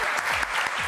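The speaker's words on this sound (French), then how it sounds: "On applaudit très fort Morgane." Studio audience applause on a French TV talent show, a dense, steady wash of clapping filling the short moment with a faint voice briefly under it.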